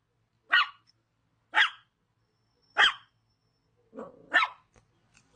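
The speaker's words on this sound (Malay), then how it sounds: "anjing di rumah jiran sebelah masih lagi bising" Next door, a neighbour's dog keeps barking, with four or five loud, clipped barks at roughly one-second intervals and a brief low growl before the last one, all against near silence.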